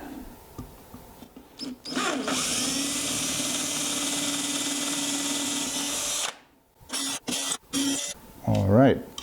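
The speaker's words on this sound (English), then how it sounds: "So instead of using number 7, I'll be using a number 6 drill here," An electric drill bores clearance holes with a number 6 bit while building a clock, a loud sustained whine for about four seconds that stops and restarts in short bursts, with the maker talking before and after.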